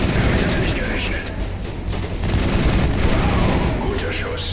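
Sustained gunfire in the video game Mass Effect, a dense continuous battle roar of shots and blasts filling the whole stretch at steady loudness, with a voice speaking over it.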